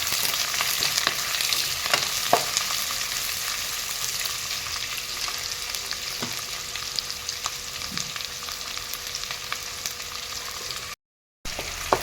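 Spice paste sizzles and fries steadily in hot oil with bay leaf, cloves, cardamom and cinnamon, giving a continuous crackle with occasional stirring scrapes and no talk.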